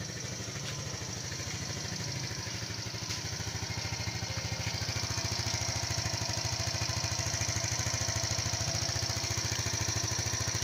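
A small gasoline engine that had refused to start despite a strong battery, fuel, spark and compression now runs at a steady idle, with a fast, even, mid-pitched putter that grows slightly louder over time and no talking.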